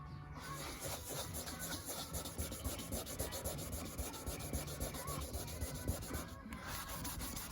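Steady machine polishing of a Range Rover L322 headlight with cutting compound, a continuous close rubbing, sanding-like whir holding an even level throughout with no talk.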